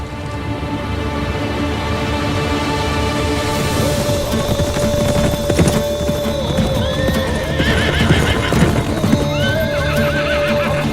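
Horses neigh loudly and clatter off in a group, hooves clip-clopping steadily across the ground in an Ottoman-era drama scene, with whinnies rising over the busy gallop.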